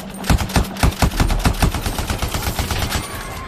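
Rapid automatic gunfire from the sci-fi shooter game Anthem, a loud, dense stream of sharp shots in quick succession with no talking over it.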